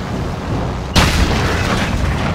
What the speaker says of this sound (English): I got blown up by C4.